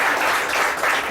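A live radio-show audience gives a loud, continuous round of applause for two guests, a close, dense clatter of many hands with no talking over it.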